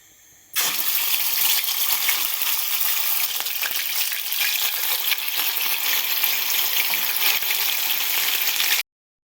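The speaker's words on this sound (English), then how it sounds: "And there my chicken in the pot frying." Chicken frying in hot oil in a pot gives off a loud, continuous sizzle and crackle that begins abruptly and runs steadily for several seconds, with no talking.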